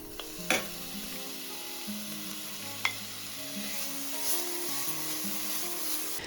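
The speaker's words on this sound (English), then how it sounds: "Now we'll chop up some bacon" Chopped bacon sizzles in a skillet, a steady close hiss with occasional sharp pops and a light clink or stir now and then, no voices.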